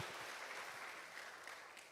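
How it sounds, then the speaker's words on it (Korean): A church congregation claps together at a Sunday family worship service, a dense, steady wash of applause that stays even for about two seconds with no voices over it. "우리 하나님 앞에 영광의 박수 올려드리겠습니다"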